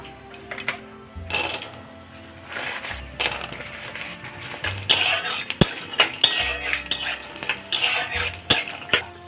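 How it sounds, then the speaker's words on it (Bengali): Peanuts frying in a little oil in a wok on a gas stove, with sharp clinks and rattles of nuts and a stirring utensil against the metal pan over a faint sizzle, growing busier and louder toward the end. "গ্যাসে অন্য একটা কড়াই বসিয়ে দিয়েছি খানিকটা তেলের মধ্যে দিয়ে দিলাম কিছু বাদাম ভেজে নেব"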